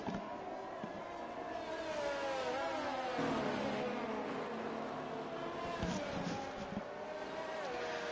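In the F1 23 video game, race cars weave to warm their tyres before the start at the Singapore circuit. A continuous, fairly quiet engine whine rises and falls in pitch as several cars drone together.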